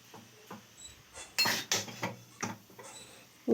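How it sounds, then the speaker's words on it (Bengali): Stirring egg chow mein in a pan, with a series of separate scraping and clattering strokes of a utensil against the pan, the strongest in the middle, ending with a louder knock. "দিয়ে ভালো করে নাড়াচাড়া করে নেওয়া হচ্ছে"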